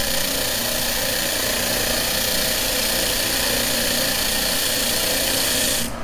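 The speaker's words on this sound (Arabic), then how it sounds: "هذا زر التشغيل، صوت الجهاز جدا بسيط ما في اي خشونة" A Laguna SS|14 spindle sander runs steadily with a smooth, even whir and broadband hiss. The sound is loud and constant for about six seconds, then cuts off abruptly at the end.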